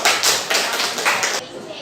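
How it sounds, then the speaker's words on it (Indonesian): Students in a classroom clap for group 1 after a lesson on ecosystems, a short burst of close, rapid handclaps that stops abruptly after about a second and a half, with a voice faintly under it. "Tepuk tangan untuk kelompok 1."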